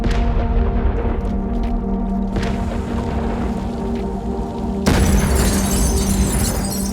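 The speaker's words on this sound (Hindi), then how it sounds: "इस टक्कर से एक भयानक धमाका हुआ।" A car bomb rams a bus and detonates, an explosion sound effect with a sustained low roar that erupts into a sudden broadband crash and shattering burst partway through, loud and close, with no speech.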